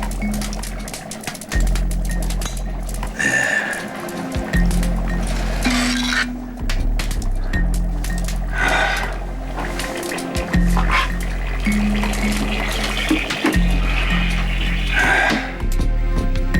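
Hot water running from a tap, a fluctuating splashing stream with clinks of objects, heard under background music and a low hum throughout.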